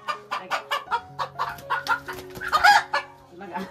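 A hen on a Konkan farm clucks rapidly and repeatedly in agitated bursts while being caught, rising to a louder squawk near the end, close and clear.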